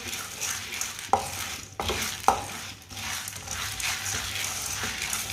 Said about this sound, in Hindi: इसे भी चम्मच चलाते हुए भूनना